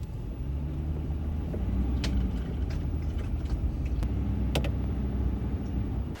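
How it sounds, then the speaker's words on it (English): A truck engine rumbles steadily at close range, a low continuous drone with a few faint clicks and knocks as the vehicle gets underway. "Let's start up the truck."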